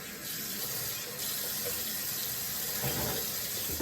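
Tap water runs steadily into a bathroom sink for a face rinse after a safety-razor shave, a close, continuous splashing stream with no talking.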